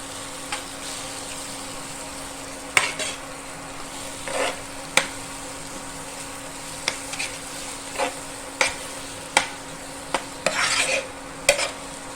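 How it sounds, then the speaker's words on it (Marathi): A spoon scrapes and stirs a masala mixed with garam masala and coriander powder for a chicken masala, with sharp intermittent scraping clicks over a low steady frying background. "आता यावेळी आपण काय करायचं गरम मसाला आणि धना पावडर जी घेतलेली आहे ती घालायची याच्यामध्ये"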